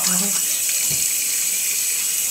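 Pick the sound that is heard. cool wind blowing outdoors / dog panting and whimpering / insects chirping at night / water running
water running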